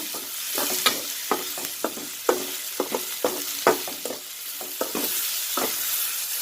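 Aloo beetroot bhaji fries in a pan with a constant close sizzle, while a spoon scrapes and stirs in quick irregular clicks throughout, moderately loud and with no talk.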